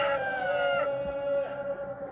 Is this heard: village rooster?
yes